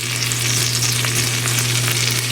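Onions caramelizing in a pan over medium-low heat give a steady, close sizzle with a constant low hum underneath, no voices.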